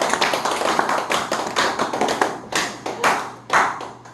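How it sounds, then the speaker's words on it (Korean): An audience at a lecture on Joseon-era astronomical records claps together in a brief burst of dense, fairly loud applause with distinct hand slaps, no talk over it. "박수 한번 치세요"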